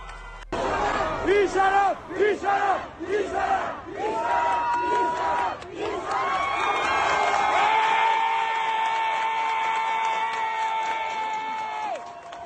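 Angry crowd of protesters in Tehran shouting in unison, rising and falling chants at first, then a sustained loud roar of many voices held for several seconds.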